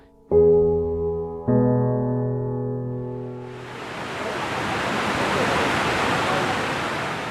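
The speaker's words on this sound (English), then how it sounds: "The sounds of peace flow through the Bosnian landscape. The serenity and beauty of Kravica waterfalls." Sustained harmonic tones give way after a few seconds to the broad, continuous rush of the Kravica waterfalls in Bosnia, building and holding at an even, full roar.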